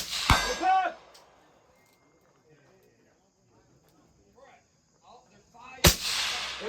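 Two sharp Mk12 rifle shots ring out at a DMR match, one at the start and one near the end, each followed by a bright metallic ring of the bullet striking a steel target, with faint talk and movement in between.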